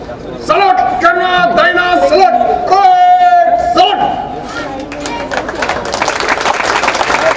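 Audience applause and crowd noise for NCC parade squad students at an academy demo day ground activity, loud clapping and hubbub mixed with prominent talk over a public address, the clapping growing denser toward the end.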